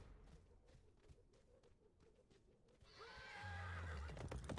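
Horse whinny in a competitive online game match, a clear neigh rising over steady background game noise and faint hoofbeats in the second half.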